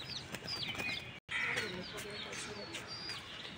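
A caged sparrow and chicks kept together with rabbits chirp in thin, high tweets scattered through the clip, partly under nearby talking voices.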